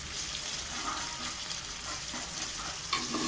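Onion and tomato masala with chili powder fries in oil in a pan for mutton biryani, with a constant close sizzle and occasional scraping stirs of a spoon through it.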